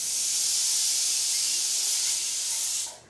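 A loud, steady hiss of escaping steam, a pressure cooker whistle blowing continuously at close range while potatoes cook, before cutting off abruptly near the end.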